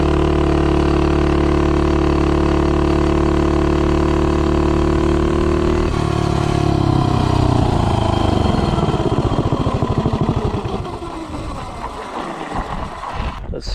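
A Mega Moto 80 minibike engine fitted with a 4.46 ratio and a 15 clutch spring revs hard as it accelerates from 0 to 30 mph. The loud steady drone climbs in pitch, then falls away and fades near the end. No voices are heard.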